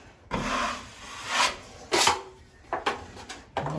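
A drywall knife spreading joint compound over screw holes during drywall finishing in a mobile home restoration: soft scraping and rubbing strokes, close and irregular, with short taps between passes.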